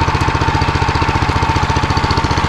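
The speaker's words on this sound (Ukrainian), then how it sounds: "Мотоблок йде з навантаження." A walk-behind tractor engine labours under load with a cold, stiff transmission, giving a loud, steady rapid thumping with evenly spaced knocking pulses throughout, close to the microphone and alone.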